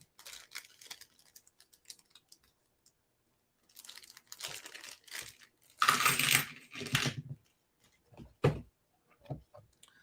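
Dice rolled during a Pathfinder tabletop game, several bursts of clattering rattles on a hard surface, with one loud tumbling roll in the middle and short clicks after, in a quiet room.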